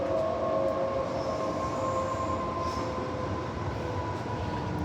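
A two-car shuttle train rolls into the Victoria Park station platform, a steady rumbling drone with squealing wheel and brake tones sustained throughout, close and loud with no talking.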